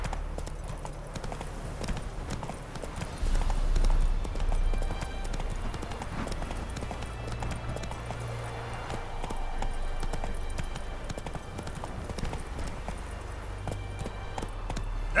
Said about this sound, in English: That's it, Roach.